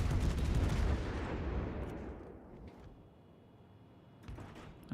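Warship main guns firing in World of Warships: Legends: one heavy booming shot opens, its rumble decays slowly over several seconds, and a smaller report follows near the end, with no voices.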